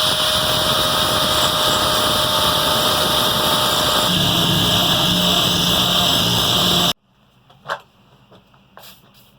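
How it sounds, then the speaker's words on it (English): An angle grinder works rust off a small metal strip being prepped for welding on a custom license plate holder. It gives a loud, steady whine for about seven seconds, then cuts off, leaving a few faint clunks. "We're just going to go ahead and further grind that little strip that we started there to get all the rust off of it"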